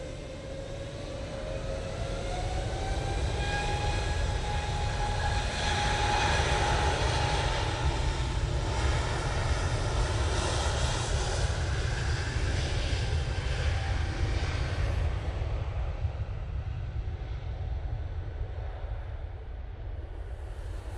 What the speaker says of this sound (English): This is off to Munich, Lufthansa City, using the A320neo.